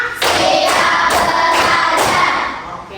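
A run of loud, sharp claps from a group, landing in quick bursts that overlap one another, then trailing off at the end.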